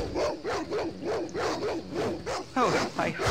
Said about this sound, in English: Looks like just a dog. Wild dog.